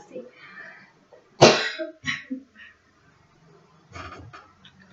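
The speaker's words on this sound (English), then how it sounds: "Clear my throat." A person at home, reading aloud in a dusty room, gives one sharp, harsh throat clearing close to the mic, with a few softer throat and voice sounds before and after.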